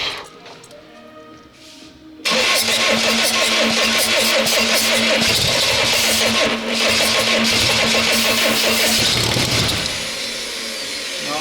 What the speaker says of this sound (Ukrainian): Пробуємо запускати.